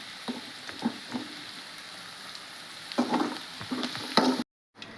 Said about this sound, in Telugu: ఆ పచ్చివాసన పోయేంత వరకు ఫ్రై చేసి సరిపోతుందండి.